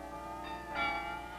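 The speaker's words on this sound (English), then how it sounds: "They were all given a complete carillon of 53 bells." Carillon bells ringing from an Amsterdam city church tower, one of the historic sets of 53 bells; sustained overlapping bell tones with a fresh strike swelling partway through, fairly distant and steady.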